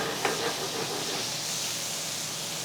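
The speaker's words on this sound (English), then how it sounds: "The cast iron skillet helps get a good char." Lamb chops sear in a hot cast iron skillet, a steady loud sizzling hiss running throughout with a brief sharper spatter near the start.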